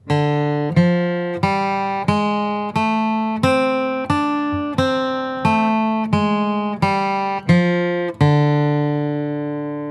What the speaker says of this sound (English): if you wanted to add your blue notes to that scale and play your D pentatonic blues scale